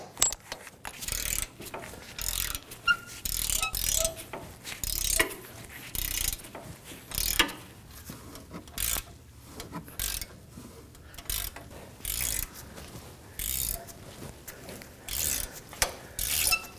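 Bolts on a front wheel bearing and hub assembly of a 2017-2024 Nissan Armada being snugged up with a ratchet: repeated bursts of clicking ratcheting, close and fairly loud, separated by short pauses, with no talking.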